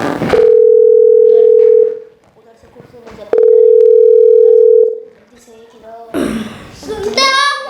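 Two long, steady telephone dial tones, each lasting over a second with a gap between, followed by speech.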